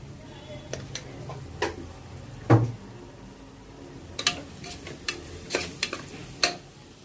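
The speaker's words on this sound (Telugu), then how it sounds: "పచ్చిమిర్చి, ఉల్లిపాయలు వేయటానికి సాల్ట్ వేస్తున్నానండి." Green chillies and onions frying in a pan for a goat head curry, with a spoon stirring and clinking at irregular intervals over a low, steady sizzle, close and moderately loud, with no talking.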